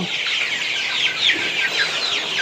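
Sonali hybrid chickens, about 35 days old, fill a poultry shed with constant high, busy clucking and peeping from many birds close by.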